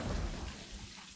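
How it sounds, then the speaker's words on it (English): Thunderstorm from the animated movie Migration: a steady wash of heavy rain with a low rumble of thunder, loud and continuous, no voices. "Oh my god, they're heading into a storm."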